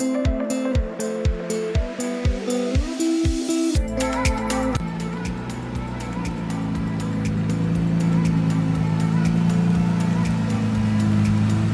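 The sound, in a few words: Nissan GTR car being pulled into the garage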